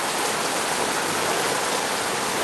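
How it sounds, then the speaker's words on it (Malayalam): Heavy March monsoon rain pours down steadily during a thunderstorm, a loud, dense, unbroken hiss of water close by with no voices. "ഒരു രക്ഷയില്ലാതെ പെയ്തോണ്ടിരിക്കണത്"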